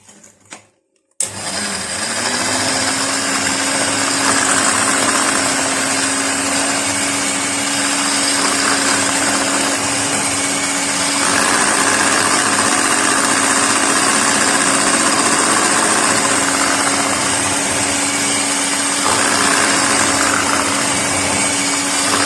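Electric hand mixer beating fudge cake batter, switched on after a brief quiet start and then running in a loud, steady whir with a constant motor hum and slight wavering as the beaters move through the batter.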